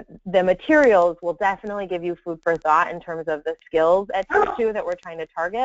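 A pet dog barks and yips excitedly in a home, sharp repeated barks close to the microphone and partly overlapping a person talking.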